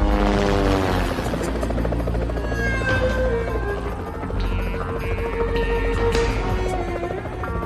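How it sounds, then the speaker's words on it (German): A helicopter arrives in a James Bond audio drama, its loud, steady rotor throb and turbine hum filling the scene throughout with a constant drone and no voices. "Ein Helikopter kommt zur vermeintlichen Rettung, aber leider ist er von der Gegenseite."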